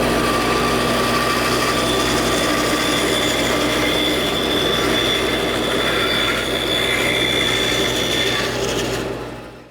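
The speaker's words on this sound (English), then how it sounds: "I've got the 1/4 inch round over bit set up in my router table, so I'm going to round over the edge on the top shelf" A router table with a quarter-inch round-over bit shapes the edge of a wooden kitchen shelf board. A loud, continuous high motor whine with rough cutting noise runs steadily, then drops away at the very end.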